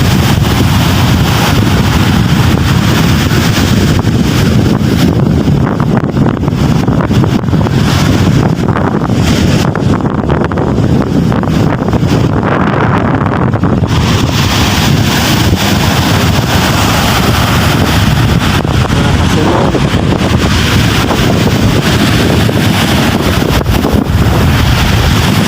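Strong wind blowing outdoors at a roadside, roaring steadily and loudly across the microphone for the whole stretch with no pauses.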